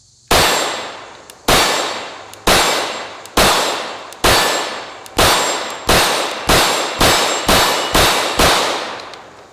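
Glock 17 pistol shots fire steadily at a steel plate target outdoors, about a dozen loud cracks each followed by a ringing clang that decays, spaced roughly a second apart and speeding up slightly toward the end.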